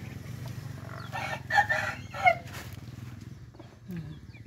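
A laying hen kept in a coop on a small farm clucks and calls in a few short bursts, close and moderately loud, with faint background noise between calls.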